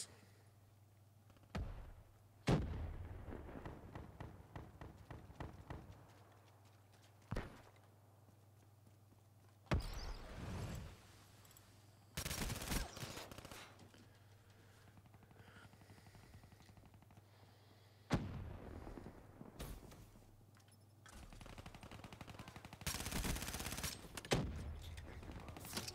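Bursts of Helix gunfire in Call of Duty: Black Ops 3, several loud sharp volleys spread irregularly across the stretch over a low steady game hum, with no talking.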